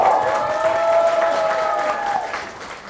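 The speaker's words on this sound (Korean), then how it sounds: "다시 한번 큰 박수와 함성 부탁드리겠습니다." Applause and cheering from a crowd at an indoor political party members' meeting in Pohang, steady and loud for nearly three seconds before easing off at the end.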